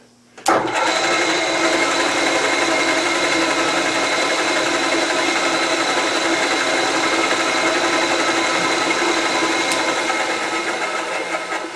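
A counterbore is cut on a TOS machine tool, a steady, loud mechanical whir starting abruptly after half a second and running evenly to the end, with no talk over it.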